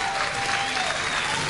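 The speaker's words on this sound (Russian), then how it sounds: "Под ваши аплодисменты" A comedy club studio audience breaks into dense, sustained applause, many hands clapping evenly at a fairly loud level through the whole short stretch.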